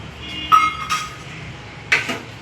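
Metal spoon clinking against a bowl while gram flour (besan) is added, a few sharp close clinks spread over a couple of seconds.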